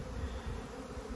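Honey bees buzz steadily at an opened hive during a smoker inspection, a dense close drone filling the short moment with no talk.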